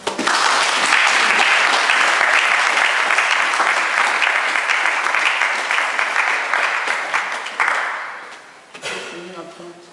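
A church congregation at a sermon breaks into sustained, loud applause and acclamation, a dense wash of clapping and voices that holds steady for several seconds before fading away.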